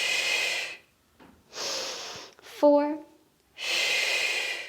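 Heavy exercise breathing during a glute-sculpting workout, with loud, breathy exhales and inhales coming in long bursts between pauses and a voice counting over them.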